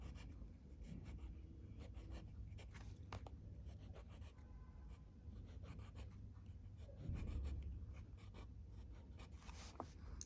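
Pen scratching across paper while drawing a row of six stars, a quiet, steady run of small strokes and scrapes in a faint room with no talk.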